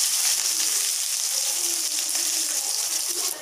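Sliced large onions with dried red chillies and spices sizzle steadily in hot oil in a pan, a continuous loud hiss throughout with no pauses.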